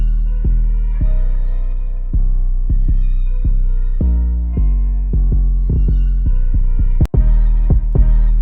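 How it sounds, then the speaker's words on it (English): Booming 808 bass and kick drum from a dark trap beat made in FL Studio, clashing into a muddy low-end thump. The deep hits pulse steadily and loudly under a melodic loop, and one sharp glitchy crack cuts through near the end. "the 808 and kick are clashing a little bit"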